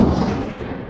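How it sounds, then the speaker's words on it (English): A liquid nitrogen bottle explodes underwater, giving a dull, heavy, muffled boom followed by a dense low rumble of churning bubbles, loud and close, with no talking. "how the explosion underwater created a practically perfect spherical ball of bubbles"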